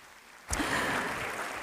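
An audience at a panel on girls' education bursts into applause for the panelists. The applause is a sudden wash of clapping that starts after a quiet moment and stays steady.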